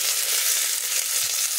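Chopped capsicum, potato, curry leaves, carrot and onion frying in a pan for veg pulao give a loud, steady, close sizzle that continues throughout with no talking.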